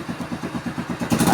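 An Easy Ride MotorStar 125 motorcycle fitted with a replacement carburetor starts and settles into a quick, even put-put idle, close and moderately loud, with a brief rise in engine noise near the end.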